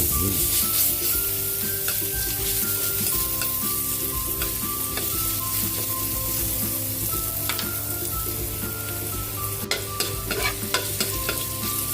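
Garlic sizzles and fries in a pan alongside ginger, with steady crackling and occasional stirring scrapes, loud and close throughout with no talking.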